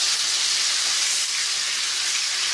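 Chicken shawarma pieces hitting hot ghee in a pan, giving a loud, steady, close-up sizzle and hiss that holds evenly throughout with no voices.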